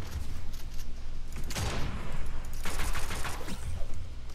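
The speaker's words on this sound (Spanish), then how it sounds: "Ok, falló los tiros. Ahora sí le pego los tiros." Gunfire in the video game Fortnite: repeated loud rapid shots in two bursts with rumbling booms and mechanical clatter between them, no speech.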